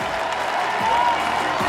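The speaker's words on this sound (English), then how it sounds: "Putra Ramadani getting a standing ovation here at Štvanice" Crowd at Štvanice giving an Indonesian climber a standing ovation at a lead climbing competition, a short burst of steady applause and cheering throughout.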